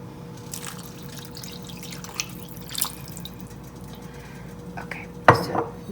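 Water poured into a pan of one-pan parmesan chicken with spinach and orzo, heard as soft trickling and dripping under light cookware clinks, ending in a sharper metallic clatter. No one talks.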